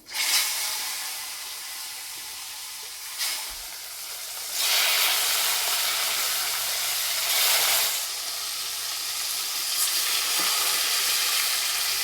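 Pangas fish going into hot oil with turmeric in a kadai, a loud close sizzle that bursts on entry, then surges again in waves of hissing frying, with no talk.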